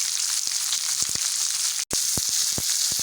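Chunks of meat sizzle and crackle loudly in a hot pan with browned onion and garlic, a steady frying hiss broken by frequent sharp pops and spatters.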